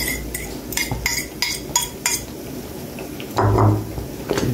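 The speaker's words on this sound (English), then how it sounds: "Let us stir." A utensil stirs saltfish fritter batter in a bowl, giving a run of sharp, evenly spaced clinks against the side, then a louder wet scraping churn near the end, close up with no talk.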